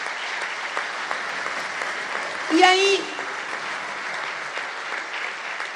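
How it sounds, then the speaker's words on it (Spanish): A crowd applauds steadily throughout, a dense wash of clapping under a brief spoken voice. "y estaban todos aplaudiendo"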